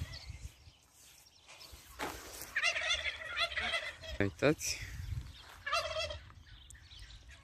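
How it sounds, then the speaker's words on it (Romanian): Turkeys on a countryside farm let out several bursts of gobbling, some near and some farther off, over a low outdoor rumble, while a person speaks briefly and quietly. "Curcanii."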